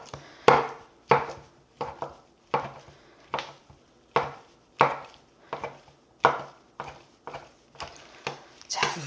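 A knife chops steadily through boiled pig head meat on a cutting board, with sharp, evenly spaced strokes about every half second, close up and crisp, with no talk.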